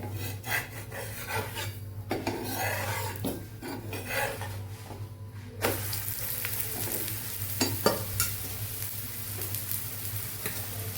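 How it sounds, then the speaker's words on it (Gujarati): Ghee-brushed flatbread packed with winter greens roasting on a hot griddle, a steady close sizzle and crackle with scraping and rubbing strokes as it is pressed and turned, plus a low hum underneath. "આ સાઈડ આપણે ઘી લગાવીને સરસ શેકી લેવાનું છે"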